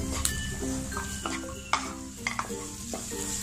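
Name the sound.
peas simmering for samosa filling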